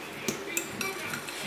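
Bacon cheddar deviled egg filling is stirred in a bowl, with four or five light utensil clinks and taps against the dish over a soft, close mixing noise.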